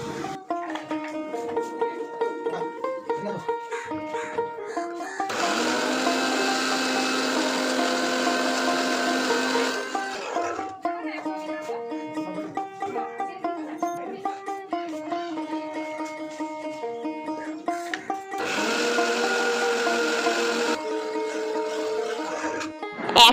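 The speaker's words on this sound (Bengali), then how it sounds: "এখন আমি পোস্তটাকে বেটে নেব।" A kitchen mixer grinder blends poppy seeds into a paste in two separate whirring bursts of several seconds each, heard over steady background music.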